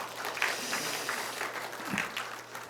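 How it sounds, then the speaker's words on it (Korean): A church congregation at a Sunday service claps together in a soft, sustained round of applause, the many hands blending into a steady patter with slight swells, heard at a moderate distance. "우리 박수 한 번 더 해주시면 고맙겠습니다."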